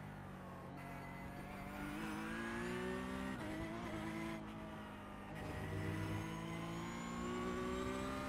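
A race car in a sim racing video game drives hard through corners, its engine whining and revving continuously with gear changes and tire squeal, loud and steady throughout.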